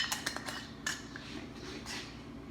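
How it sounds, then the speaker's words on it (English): Spoon stirring a smoked paprika mixture in a bowl for plant-based hash nests, a few quick clinks and scrapes, then a softer steady scraping, close and fairly quiet. "we stir that together, mix it nicely"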